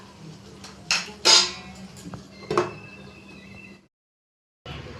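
A metal lid clinks and rattles as it is set onto a cooking pan holding soybean curry, a few sharp close clanks over a low hum, then a short silence.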